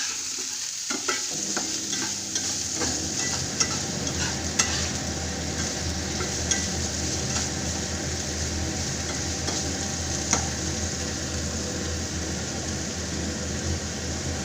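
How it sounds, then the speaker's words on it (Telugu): Paneer fries with cumin in ghee until lightly browned, a close, steady sizzle with a faint low rumble underneath and occasional sharp clicks from stirring. "జీరా ఫ్లేవర్ అంతా, గీ ఫ్లేవర్ అంతా పన్నీర్కి పట్టేదాకా అలా కొంచెం బ్రౌనిష్గా వచ్చే వరకు వేయించుకోవాలి"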